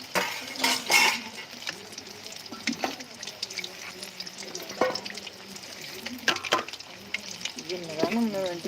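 Fish fries in bubbling oil over a wood-fired stove, giving a soft, steady sizzle broken by occasional utensil clinks while someone talks over it.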